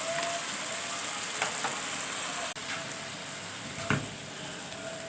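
Chicken karahi sizzles steadily in a pan as black pepper goes in, a continuous close frying hiss with a few brief stirring scrapes and no talking.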